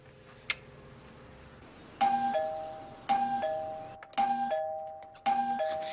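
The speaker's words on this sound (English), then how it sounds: "The doorbell won't stop ringing." A doorbell chimes over and over, a two-tone ding-dong repeating about once a second with ringing tails, loud and close over a quiet room tone.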